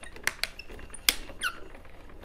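A die cutting machine squeaks while pressing through a cut: a few sharp, high squeaks and clicks, close by and spaced irregularly over a quiet background.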